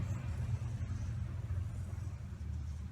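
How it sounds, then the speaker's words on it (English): Steady low rumble of passing road traffic, constant and fairly faint, with no clear voices. "apologize for all the traffic noise."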